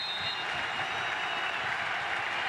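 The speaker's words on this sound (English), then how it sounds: "Big crowd here at Raymond James Stadium trying to cheer on the Bulls defense" A large stadium crowd at a college football game at Raymond James Stadium, South Florida Bulls against Louisville, roars and claps in a steady, dense wash of cheering without a break.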